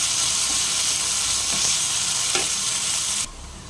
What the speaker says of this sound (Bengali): আর একটা জিনিস দিতে ভুলে গেছি, কারি পাতাগুলো এখনই দিয়ে দিলাম